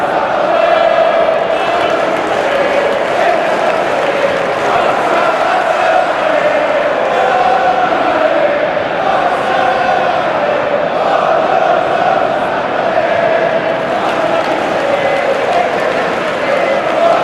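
A stadium crowd in the FC 26 football game at a Roma vs Inter Milan Serie A match, loud and constant, a dense roar of chanting that fills the whole stretch with no breaks.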